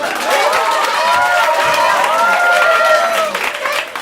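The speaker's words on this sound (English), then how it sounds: "Clap your hands if you believe!" Audience members in a kids' sketch comedy show clap and cheer loudly together, a continuous close burst of applause with excited voices and shouts riding on top.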